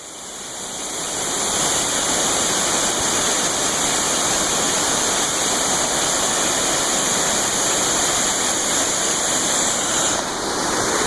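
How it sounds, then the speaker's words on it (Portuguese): Corupá waterfall in Santa Catarina, Brazil, roars as a steady, dense rush of falling water, loud and close, swelling in over the first second and then holding constant with no voices. "Cachoeira número 2 essa cachoeira."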